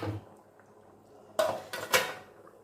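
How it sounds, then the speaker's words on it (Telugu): A metal lid set back onto a pot of Nellore-style fish curry with raw mango, making a couple of close clanks and a rattle against the rim in an otherwise quiet kitchen. "ఇప్పుడు మళ్ళీ మూత పెట్టేద్దాం."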